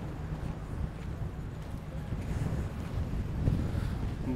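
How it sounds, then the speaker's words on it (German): Strong wind gusts over a beach on Lanzarote, with steady broadband buffeting on the microphone that swells louder toward the end, and no voices. "Jetzt stehen wir also voll im Wind."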